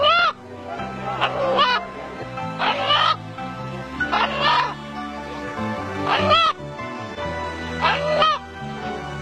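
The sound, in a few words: rooster crowing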